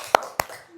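Two sharp claps from a classroom of students doing a cheer clap, evenly spaced about a quarter second apart, close and fairly loud with nothing else around them.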